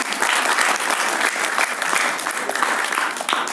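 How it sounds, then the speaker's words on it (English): An audience at a professional training session claps steadily in sustained, dense applause that fills the whole moment without any speech. "So shall we give a good round of applause?"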